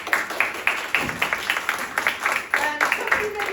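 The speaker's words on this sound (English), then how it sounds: "Please give them a round of applause." Theatre audience applauding after a world premiere performance, with rhythmic claps rising and falling steadily at close range and a voice talking faintly underneath.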